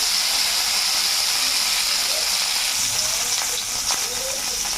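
Chicken pieces fry in a pan for chicken paturi, giving a steady, close sizzling hiss with a few faint clinks.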